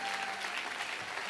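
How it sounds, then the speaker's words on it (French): Church congregation clapping, a dense, even wash of applause that stays steady for its whole short length. "Acclame, acclame, acclame,"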